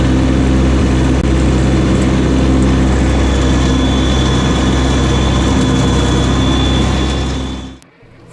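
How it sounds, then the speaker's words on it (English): A tractor engine runs steadily at about 2800 RPM, driving a brush hog at 540 PTO speed, a loud, continuous low drone with a constant hum that cuts off abruptly near the end. "For test two, I'm running the same 540 PTO speed, which on this tractor is about 2800 RPM"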